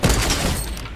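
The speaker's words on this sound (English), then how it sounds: "He's got a minigun out." Rapid video-game minigun fire roars in a dense, continuous burst across the whole second, loud and close with no pauses.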